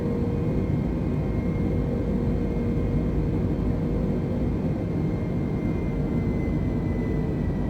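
Steady, droning jet engine rumble of an Airbus airliner climbing in Microsoft Flight Simulator, a constant broadband roar with a faint tonal whine and no voices.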